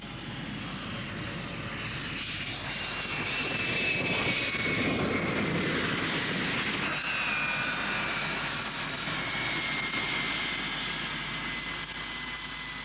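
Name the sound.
Air Pacific BAC-111 jet airliner arriving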